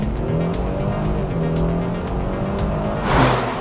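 A Kia Stinger GT six-cylinder engine hums and builds steadily with a smooth, rising tone, heard from inside or nearby, ending with a brief louder surge.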